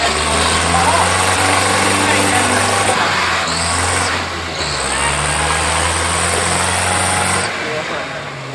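A vintage 1962 Nuffield TM4 tractor engine runs steadily at a veteran tractor pulling contest, a loud close rumbling drone with a brief dip midway, while a commentator's voice talks over it.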